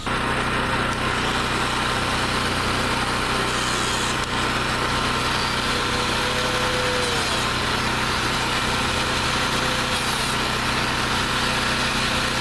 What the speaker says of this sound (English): So now I'm just going to make a corresponding slot with the Classic machine